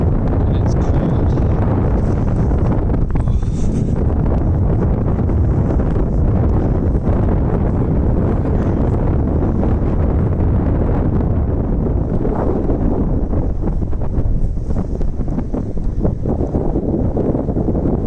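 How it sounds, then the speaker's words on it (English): Strong wind on a cold March day roars across the microphone in a steady, loud, buffeting rush that lasts the whole stretch. "Still windy."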